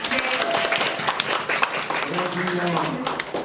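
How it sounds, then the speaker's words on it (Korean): Audience applause welcoming a chairman at a guest-of-honour event, steady clapping mixed with some voices talking over it. "우리 정영수 의장님 큰 박수로 한번 모시겠습니다"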